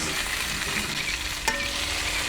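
Steady, loud sizzling of beef tenderloin in a hot pan on a charcoal barbecue, a continuous frying hiss with a brief sharper crackle midway.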